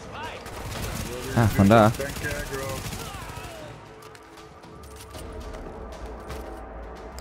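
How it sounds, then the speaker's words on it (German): Gunfire aimed at the player in The Division's Lincoln Tunnel mission, bursts of shots amid battle noise, loudest early on, while someone talks briefly. "Von wo werden wir beschossen?"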